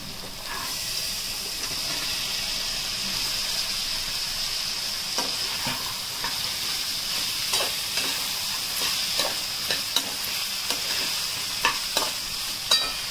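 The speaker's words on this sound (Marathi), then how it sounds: "तर ज्या मी या भाज्या कापून धुवून घेतलेल्या आहेत त्या सर्व भाज्या घालायच्या आहेत." Chopped, washed vegetables stir-fry in a pan under a steady hiss and sizzle, with intermittent scraping knocks from a spatula that grow more frequent toward the end.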